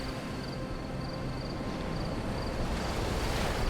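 Ocean waves churn below a cliff at night, a steady rolling wash of surf mixed with breeze, moderately loud and continuous with no voices.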